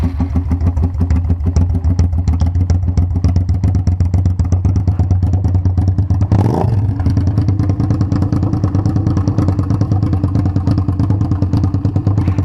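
A 1999 Suzuki SV650S motorcycle with a Delkevic 350mm exhaust runs close by in a steady rapid thumping idle that lasts throughout, with a brief rev blip partway through.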